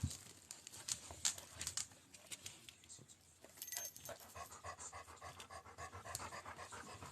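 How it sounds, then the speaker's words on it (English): A huffy dog panting close by indoors: rapid, steady, breathy huffs that keep going without a break, with a few faint squeaky whimpers and no talking. "Let me let this huffy dog out"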